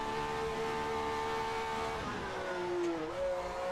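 The BRM H16 engine of a 1967 Formula 1 car in a racing video game holds a steady, buzzing tone, then its pitch shifts and climbs, heard alone with no talk.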